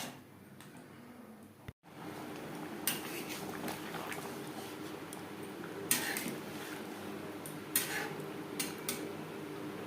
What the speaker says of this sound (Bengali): তিন 4 মিনিট বেশ ভালো করে ফুটিয়ে নেব